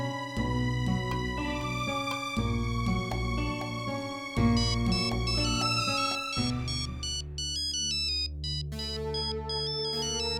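A telephone ringtone plays a loud, bright melodic electronic tune with repeating phrases, continuing on its own without any talk over it.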